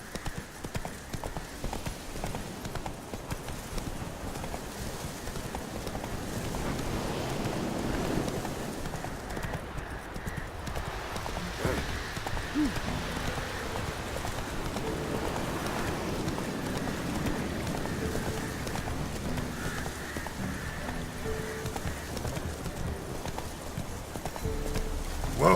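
Roach the horse gallops in the Witcher 3 video game, with rapid, steady clip-clop hoofbeats running continuously at moderate loudness and no break in rhythm.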